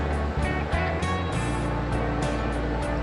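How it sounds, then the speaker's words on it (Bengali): Crushed ginger frying in oil for Kashmiri aloo dum, a loud, continuous hiss with rough pulsing bursts. "আদাটাকে ভালোভাবে ভেজে নিচ্ছে একটু"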